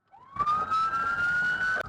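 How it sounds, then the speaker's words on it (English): A police car siren wails close and loud in one long rising tone that holds steady for under two seconds. "officers blare their lights and sirens"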